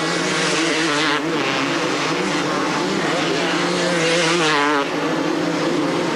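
250cc Honda CR motocross bikes race at the 1998 French motocross Grand Prix, engines loud and close, rising and falling in pitch as bikes pass, with a second rider sweeping through near the end and crowd noise beneath.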